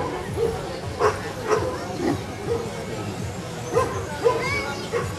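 Dogs at a Czech dog show in Litoměřice, with bull-type breeds in the ring, give a series of short, fairly close barks and yips at irregular intervals over steady crowd babble.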